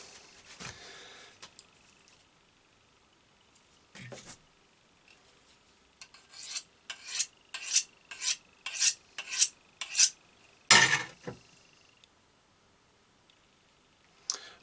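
A cloth wipes back and forth over a bushcraft knife blade to dry it, a rhythmic series of about a dozen soft, close rubbing strokes after a few scattered handling sounds, with no talk.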